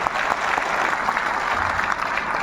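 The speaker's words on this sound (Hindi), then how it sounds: "तो जोरदार तालियां होनी चाहिए इन लीडर्स के लिए" Loud, sustained audience applause for leaders at an Indian direct selling career event, a thick steady wash of many hands clapping for the full stretch, with crowd noise blending in.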